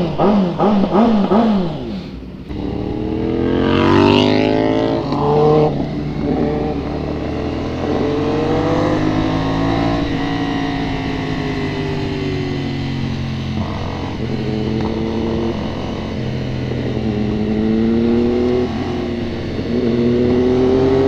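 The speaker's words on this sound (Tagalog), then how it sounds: "Sarap talaga ng tunog ng tenor ni Mr. Gaspoholic" A motorcycle with a tenor exhaust rides along on a group breakfast ride around Caliraya, Laguna. The engine revs and climbs loudly and close, then settles into a steady droning cruise with shifting pitch.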